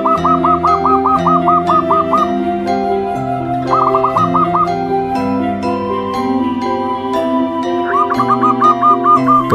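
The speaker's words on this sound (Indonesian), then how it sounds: "perkutut yang berbunyi atau manggung di waktu mendengar suara azan saja" Zebra doves (perkutut) cooing in repeated rhythmic bursts of bubbly notes, clear and fairly loud, layered over a steady mix of other birdsong and a continuous humming tone.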